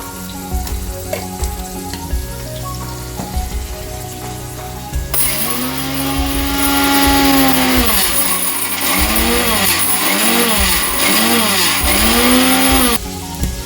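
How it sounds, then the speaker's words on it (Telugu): A mixie jar grinds roasted mustard seeds and fenugreek for a mango peel pickle: quiet kitchen clatter first, then the motor starts loud with a rattling whir, pulsing and revving in repeated bursts before cutting off. "మెంతులు మిక్సీ పెట్టేద్దాం"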